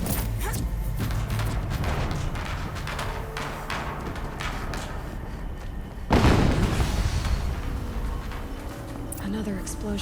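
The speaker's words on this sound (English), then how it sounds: "Another explosion." A loud explosion booms midway through a busy stretch of the Horizon Zero Dawn Remastered video game, with voices and steady background noise around it.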